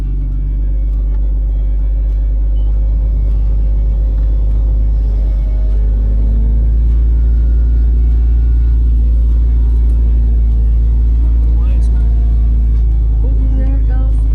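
A vehicle engine on a rollover-prone off-road climb revs and rumbles loudly and steadily as the driver tries to get the front tire to grab, with a voice speaking over it.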